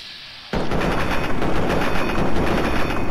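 Automatic gunfire in the video game Fallout 3, a loud continuous rattling burst that starts abruptly and runs unbroken to the end.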